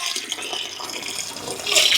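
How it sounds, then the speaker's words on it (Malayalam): A waterfall in Kerala rushes in a steady, fairly loud wash of water noise that swells slightly near the end, with no voices over it. "അതെ, വെള്ളച്ചാട്ടം."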